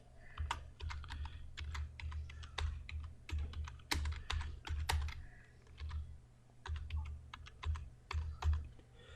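Steady computer keyboard typing, with quick clusters of key clicks and brief pauses as text is entered, close and clear with no talking.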